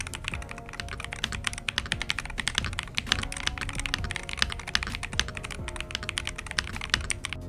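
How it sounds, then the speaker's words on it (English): Steady, rapid typing on a stock Madlions MAD60/68HE hall effect keyboard, dense overlapping keystroke clicks at close range with a somewhat hollow character, continuous throughout with no talking. "It sounds not that bad stock, not gonna lie, but I feel like it could sound better because the keyboard itself, it feels quite hollow when I type on it"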